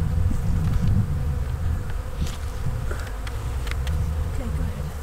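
A honeybee swarm that has settled into an apiary gives off a steady, dense buzz, close and continuous, with many insects droning together and no talk over it.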